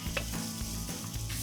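Eggplant and potatoes sizzle steadily in hot olive oil in a pan, a continuous close crackle and hiss with a few soft stirring scrapes, no voices.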